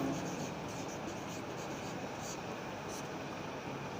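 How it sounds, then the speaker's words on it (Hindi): A pen moves across paper while someone hand-writes a to-let rental advertisement, producing a faint, steady scratching that runs throughout over a low room hum. "तो हम लिखेंगे"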